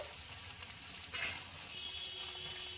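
Bottle gourd frying in a pan gives a steady hiss and sizzle, with a brief louder scrape of stirring partway through and no voices.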